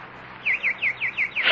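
Six clear, evenly spaced bird chirps from a nightingale in a radio drama, each a short bright downward-sweeping whistle, heard alone over a quiet background hiss before a louder sound cuts in at the end.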